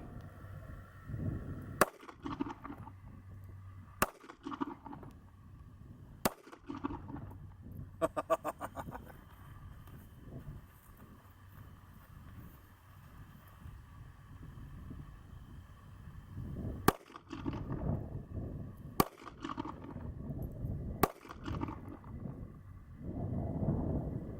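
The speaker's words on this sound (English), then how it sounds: "the first footage you're going to see is going to be me shooting 2 different distances, 3 yards and 5 yards" A Ruger EC9s pistol fired at an outdoor range at 3 and 5 yards: six sharp, loud shots in two groups of three, each group evenly spaced, with a quieter stretch between and no talking.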